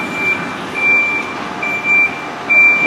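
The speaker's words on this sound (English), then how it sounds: "The SIFA button, the safety button, he just pushed that, it just made a noise." Intermittent high electronic warning beeps from a train's SIFA safety button system, several short and longer tones sounding over steady rumbling cab and rail noise as the train moves along.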